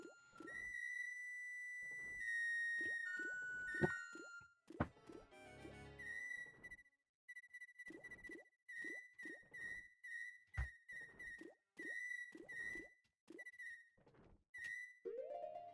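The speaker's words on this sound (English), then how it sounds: "this stressful music needs to be calmed down with some super high-pitched whistle noises" High-pitched whistle notes from the Zelda Majora's Mask game, heard in Ikana Canyon, trill in a string of short bursts over sparse plinking game music and occasional thuds.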